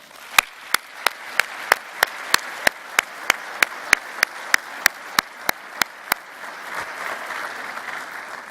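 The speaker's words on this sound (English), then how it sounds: "I think we all should give them a round of applause" A convention audience applauds staff at a waste-industry congress closing ceremony: a few loud, sharp, evenly spaced claps ring out near the microphone over a softer crowd clapping, with the close claps stopping after six seconds while the diffuse applause continues.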